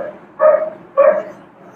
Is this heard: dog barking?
yes